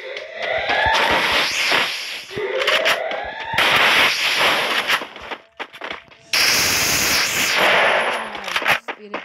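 Bursts of rapid automatic fire from an MP40 Chromasonic submachine gun in the Free Fire video game, loud and close, several long volleys separated by short pauses.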